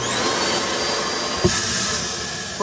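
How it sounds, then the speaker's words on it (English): A central vacuum built into the floor of a 2022 R-Pod 190 camper runs with a steady, loud whooshing roar close by, broken by one brief knock partway through. "Road vac, but it's a central vac"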